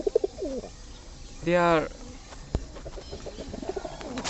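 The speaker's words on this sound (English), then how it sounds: "So about this fantail pair, black and white fantail," A black and white fantail pigeon pair gives a short, close rolling coo in the middle, with someone speaking briefly before and after it.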